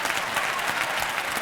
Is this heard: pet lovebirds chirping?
no